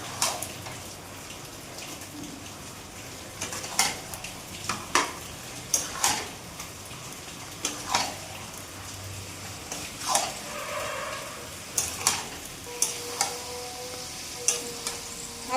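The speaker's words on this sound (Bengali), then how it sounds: "এবার ভালো করে মিশিয়ে নেব।" Chicken pieces coated with chilli powder being stirred in a pan for chicken kosha, a spoon clinking and scraping against the metal in irregular taps over a faint, steady sizzle, with no voices.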